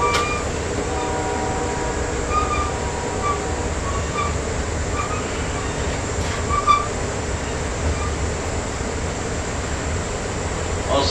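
A continuous low rumble and rattle of an Amtrak Coast Starlight passenger train rolling along the rails, steady throughout, with faint squeals and clanks.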